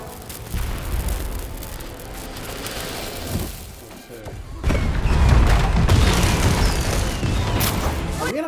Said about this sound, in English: Are we in a fucking fireworks factory?